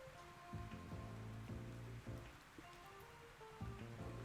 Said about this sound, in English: And if I click it again, we get rain.